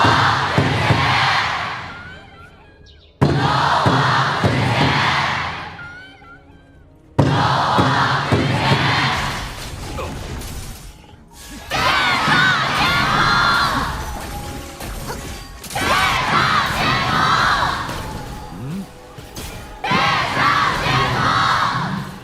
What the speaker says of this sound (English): Let's hear them cheer for their teams.